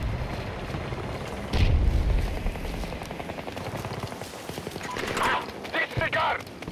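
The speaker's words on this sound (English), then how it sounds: "Throwing grenade!" In the shooter Battlefield 2042, a grenade explodes in a heavy boom, followed by rattling bursts of automatic gunfire and distant combat noise, with voices calling out over the action.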